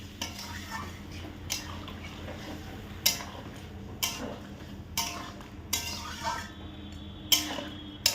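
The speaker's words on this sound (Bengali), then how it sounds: "ভালো করে নাড়া দিয়ে" Chicken curry made with country chicken is stirred in a cooking pot. Around eight rhythmic metallic knocks and scrapes of a spoon against the pot sound roughly once a second over a low, steady background.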